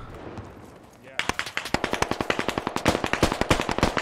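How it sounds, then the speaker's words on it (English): Sustained machine gun fire in a Squad military shooter, a PKP firing from about 150 meters east, arrives after a muffled opening second as a steady rhythm of loud, sharp bursts, with a voice talking underneath. "That's an MG."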